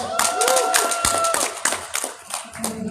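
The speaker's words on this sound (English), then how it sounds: "Round of applause for yourselves." Audience applause at a Wizard World Comic Con panel, a steady wash of clapping close by with a few voices and whistles mixed in, tapering slightly toward the end.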